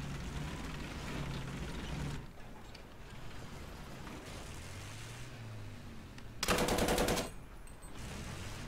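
Small, quick tank cannon fires during a War Thunder battle, giving one loud, sharp burst of rapid shots set against steady background battle noise and rumble.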